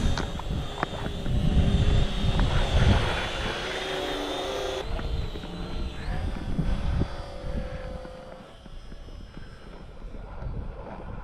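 An RC model airplane with contra-rotating propellers flies nearby, its engine drone loud and steady with shifting whine, then easing and fading slightly toward the end.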